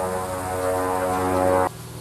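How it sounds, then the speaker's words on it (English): A propeller airplane passes overhead outdoors behind a house: a steady, fairly loud engine drone with a strong harmonic hum that holds for about a second and a half, then drops abruptly to a quieter rumble. "And then an airplane comes flying over my head."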